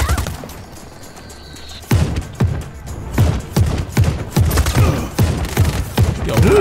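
Gunfire in the video game Just Cause 4: after a quiet start, a steady run of evenly spaced, punchy shots or thumps rings out at a moderate distance, each report trailing off before the next.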